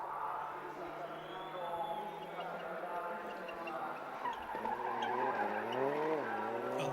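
Rally car braking hard into a slalom section at the Monza Rally Show, with loud tire squeal and skidding over a steady engine roar. The engine pitch swings up and down near the end as the car changes gear, and a commentator speaks over it.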